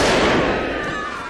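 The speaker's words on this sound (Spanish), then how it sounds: "Un disparo hace que los rehenes se tiren al suelo." A gunshot rings out during a hostage rescue assault at Entebbe, a loud, sharp burst followed by a rolling, noisy decay with no talk over it.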